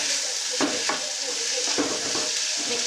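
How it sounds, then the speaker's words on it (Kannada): A spoon stirs onion and curry leaves in a pan over a low flame, scraping strokes recurring under a steady soft sizzle of frying oil, close and quiet with no voices. "ಕರಿಬೇವು ಎಲ್ಲ ಮಿಕ್ಸ್ ಮಾಡಿ ಲೋ ಫ್ಲೇಮಲ್ಲಿ ಇಟ್ಕೊಂಡು"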